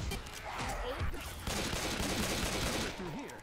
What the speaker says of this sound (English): Oh no, someone shot it.